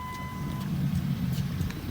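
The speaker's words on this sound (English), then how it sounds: "we'll pop the trunk" A 2010 Lincoln MKX power trunk opens: a steady electronic tone sounds for about half a second, then a low mechanical hum and soft clunks follow, close and fairly quiet.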